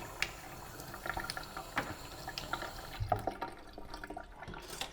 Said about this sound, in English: trying to fill up that and shake the water around a bit